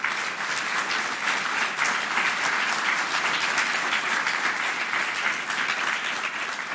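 A large audience claps steadily at an award ceremony for volunteer-of-the-year honours, a dense, even wash of applause that holds at full strength from start to finish with no voices on top.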